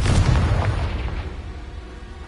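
Confringo spell explosion in the Hogwarts Legacy video game: one loud, close blast with a heavy low boom that rumbles and then fades over about two seconds, with no talking.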